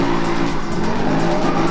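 Tires skid and squeal from a racing car in Need for Speed Rivals, a steady sustained screech over a droning engine, loud and close, lasting the whole moment with no one talking.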